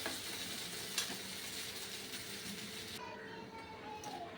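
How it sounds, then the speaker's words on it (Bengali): Okra frying in a pan, a dense continuous sizzle with stirring scrapes close by that drops off sharply partway through and leaves fainter frying underneath. "ভেন্ডি ভাজা।"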